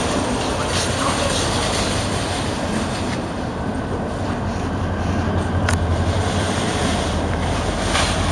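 Several EMD GP40 diesel locomotives running as a steady, loud, broadband rumble with constant low-frequency drone and hiss throughout, no clear speech.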